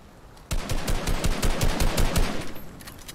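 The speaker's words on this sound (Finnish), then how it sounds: "mä ammun täältä" Rapid automatic gunfire in the Fortnite video game, a dense burst of close, loud shots firing in quick rhythm for over two seconds after a brief quiet start.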